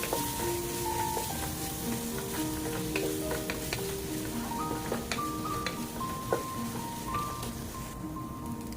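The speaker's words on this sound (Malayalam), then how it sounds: "മസാലയൊക്കെ നല്ല മിക്സ് ചെയ്ത് യോജിപ്പിക്കുക." Masala being stirred and mixed into 1 kg of half-fried chicken in a pan for a North Indian style chicken curry, with steady sizzling and frying and continual scraping of the spoon, close and fairly quiet.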